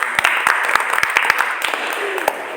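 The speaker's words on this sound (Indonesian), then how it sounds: "tepuk tangan untuk kita" A classroom audience at an Indonesian school guidance session claps together in a short burst of applause, with quick scattered hand claps close by that taper off after a couple of seconds.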